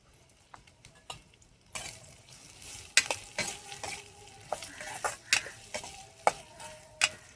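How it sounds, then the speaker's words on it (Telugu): Onions fry with salt in a pan over a wood-fired stove for a small bitter gourd fry. A low sizzle sits under sharp, irregular spatula clicks and scrapes against the pan, close and moderately loud, with no voices. "కొంచెం ఉప్పు వేస్తా ఉల్లిగడ్డ తొందర మగ్గుతుంది"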